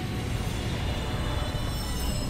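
A train in the Ratchet & Clank game on Kerwan rumbles and squeals on its rails as it arrives at a station, a steady loud wash of rolling noise and metallic hiss, with no voices.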